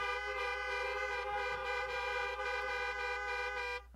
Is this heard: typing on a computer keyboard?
no